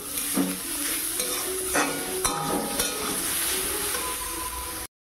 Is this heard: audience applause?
no